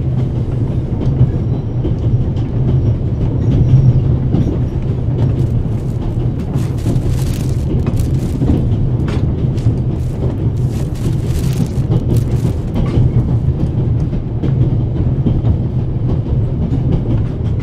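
A train carriage rolls along rails in The Raven Remastered, a steady loud low rumble with rattling clatter and occasional clanks, continuous throughout.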